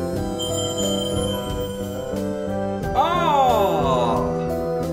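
A giant bell rings out in the Night in the Woods video game, struck once with a bright, shimmering metallic clang partway through that decays slowly over a sustained tonal game music backdrop.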